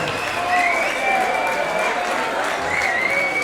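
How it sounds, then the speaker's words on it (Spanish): A crowd claps steadily at a rock concert, a dense and loud wash of applause with voices mixed in. "ara un aplaudiment per Albert."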